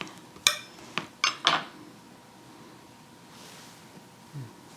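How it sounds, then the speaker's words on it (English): A knife scrapes butter across a slice of carnivore meat bread, a few sharp clinking scrapes close up in quick succession, then a quieter stretch. "let me just butter a piece and give it a try"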